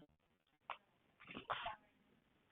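A person indoors at a seminar sneezes once, a faint, sharp burst, with a breathy intake just before it and a short follow-on sound after.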